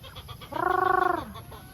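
A single short, buzzy, wavering call from an asil cross gamecock rooster, close and fairly clear, lasting under a second over a faint background hum.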